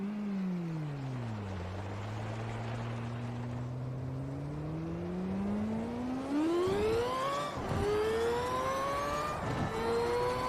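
A car engine in Forza Horizon 4 revs steadily, its tone sagging low, then climbing through rising gear sweeps with brief dips at shifts, loud and continuous throughout.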